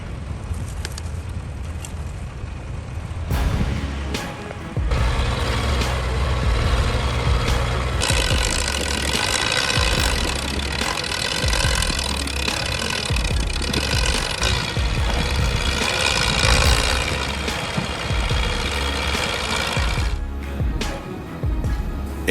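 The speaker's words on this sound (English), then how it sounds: "The roar of the engine tore through the silence" Large off-road truck grinding along a rough dirt road, with a continuous loud heavy engine roar and mechanical clatter that swells and holds near for most of the stretch before easing off.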